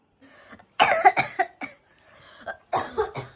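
A woman coughs in a short run of harsh, close bursts, several quick hacks grouped together with brief pauses between them and no talking.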